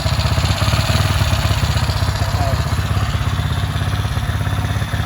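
A carbureted Honda XRM110 motorcycle engine runs close and loud with a steady, rapid mechanical pulsing that holds at high revs throughout, with no clear change in speed and no voices over it.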